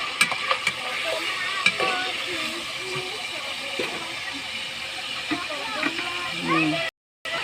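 Pork steak sizzling in a pan, a steady close frying hiss with occasional stirring clinks and scrapes, while a voice talks over it.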